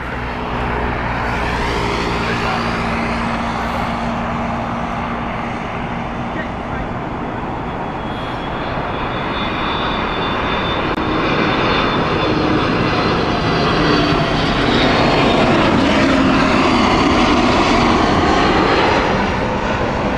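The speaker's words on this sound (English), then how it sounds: "Next up, we have the Reykjavik flight with the Airbus A321neo from British Airways." A British Airways Airbus A321neo jet passes at Heathrow Airport, its engine roar a loud, broad, sustained rumble that builds gradually and stays strong throughout, with some talk mixed in.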